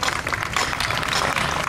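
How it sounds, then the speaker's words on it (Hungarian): Applause from the crowd at the 2023 Vecsés cabbage festival, a steady dense wash of clapping that holds evenly throughout at moderate distance. "Egy nagy tapsot kérünk nekik is."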